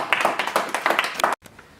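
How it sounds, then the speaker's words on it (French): Scattered hand claps from a small writing-workshop audience applauding a poet after a reading, a brief loose burst of clapping that stops abruptly. "on peut applaudir le poète"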